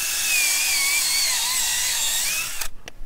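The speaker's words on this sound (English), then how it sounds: "we're gonna drill the holes for our targets" Power drill boring holes into solid ground for buried metal-detector test targets, a steady high-pitched whine running close and loud for most of the span before cutting off into a few brief clunks at the end.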